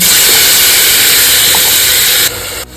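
Chopped onion, tomato, ginger, garlic and green chilies hiss loudly in a hot pan as they start to sauté, a steady broad sizzle that drops off abruptly near the end.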